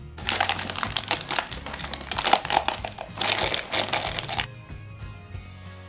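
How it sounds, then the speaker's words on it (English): A plastic piping bag crinkles and rustles in repeated bursts as coffee topping for Roti Boy-style coffee buns is transferred into it, close and fairly quiet, stopping before the end. "Transfer the coffee topping into the piping bag."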